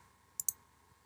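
Two quick mouse clicks on a computer running BeerSmith brewing software, sharp and close together against a quiet room hum, with no talk.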